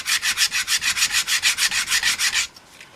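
Sheets of 180-grit sandpaper scrub the old finish off a motorcycle wheel in quick, even back-and-forth strokes, about fifteen rhythmic rasps close up before the rubbing stops.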